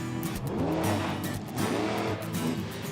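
A big racing machine roars past at close range, engine revs rising and falling in loud surges with a brief tire squeal, filling a stadium with no voices over it.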